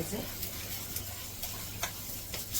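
An uttapam topped with onion and tomato fries in a pan with a soft, steady sizzle and a few faint clicks. It is fairly quiet and close, with no clear talking.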